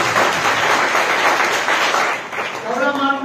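A church congregation claps hands in thanks during a sermon, a loud, dense burst of clapping that fades as a voice begins to speak near the end.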